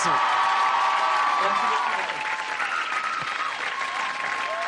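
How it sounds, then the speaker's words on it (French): Sustained loud applause from a large audience at a comedy show, a dense wash of clapping that continues steadily, with a voice faintly underneath at times. "Applaudissez Kev Adams"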